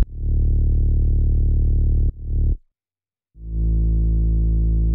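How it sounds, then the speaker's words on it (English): A synth bass from a single sawtooth wave in Ableton Operator, driven and shaped through a filter, plays sustained low notes in a future bass track, with a short gap of silence before a final long held note. "All it is just an operator playing a sawtooth wave"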